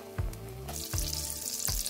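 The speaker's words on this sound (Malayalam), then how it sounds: "നമ്മുടെ സൂപ്പ് അവിടെ തിളച്ചുകൊണ്ടിരിക്കുകയാണ്" Cream of chicken soup boils in a pot with a soft bubbling sizzle and a few dull knocks, close up, with no voices.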